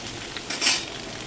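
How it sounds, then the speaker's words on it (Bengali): Chopped onion and snake gourd fry in a pan over medium heat, a short soft sizzle with a brief stirring scrape near the middle, close and fairly quiet, no voices. "চিচিঙ্গা আর পেঁয়াজ দিয়ে মিডিয়াম আঁচে 2 থেকে 3 মিনিট মতো ভালো করে ভেজে নিচ্ছি"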